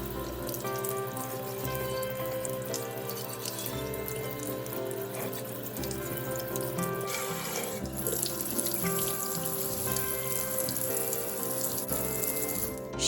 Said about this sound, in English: Now we just rinse it off.